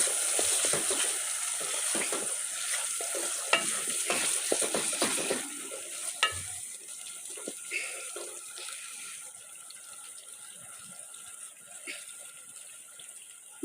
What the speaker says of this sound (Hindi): और अब हम डालेंगे टमाटर, मिक्स करेंगे